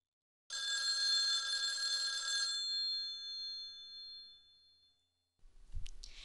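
An office telephone rings once for an incoming call, a bright electronic trill lasting about two seconds that fades into a faint tail, followed by a brief handset clatter as it is picked up.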